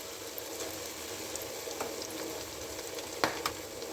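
Besan-coated fish frying in ghee inside a kadhai, a steady close sizzle with a few brief sharper crackles and pops near the end, no voices.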